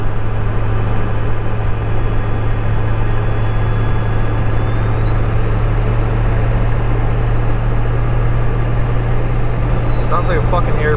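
2000 7.3 turbo diesel truck engine on a morning drive, heard from inside as a loud, unbroken drone with a turbo whine that rises and falls.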